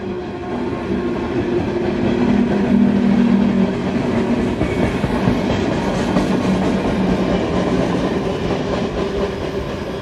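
A CSX freight train, Q741, rolls through a railroad junction wye near Jacksonville, a loud continuous rumble of wheels and cars with rhythmic clatter, close and steady for the full stretch.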